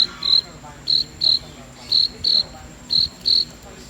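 A human voice imitates a cricket, with a steady series of short, shrill chirps in a regular rhythm, clear and close against a faint background.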